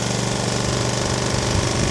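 A small engine runs steadily just after starting, a loud, close, rapid chugging putter that holds an even rhythm throughout without a break.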